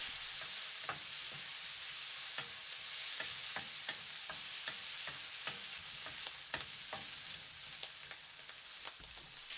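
Shrimp and garlic stir-frying in hot oil on high heat, a steady close sizzle broken by repeated sharp scrapes and clicks of a utensil stirring the pan, continuous with no talk.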